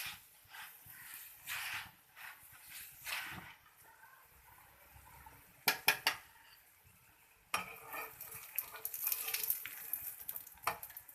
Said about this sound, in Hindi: मैं अच्छे से घी में पराठे को सेकती हूँ ताकि वो अच्छा सा गोल्डन हो